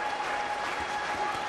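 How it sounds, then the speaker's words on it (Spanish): A boxing crowd applauds at a women's bout in Chaco, a steady wash of clapping from many hands with no voices standing out. "Bate palmas el público"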